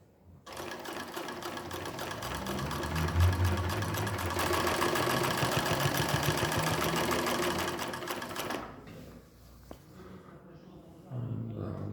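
A Highlead GC 343 triple-feed sewing machine stitches steadily for about eight seconds with a close, loud, busy mechanical chatter, then stops and goes quiet while a voice speaks briefly near the end.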